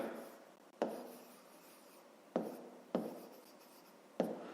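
A pen writes out a math solution by hand on paper, steady soft scratching strokes broken by a few sharper taps, faint and close with no talk.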